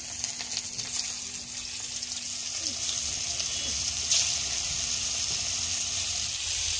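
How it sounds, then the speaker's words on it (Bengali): Cauliflower frying in a pan during home cooking of cholar dal gives a steady, moderate sizzle that runs throughout. A low hum persists underneath, with faint background voices. "ফুলকপিটা এবার ভাজছে"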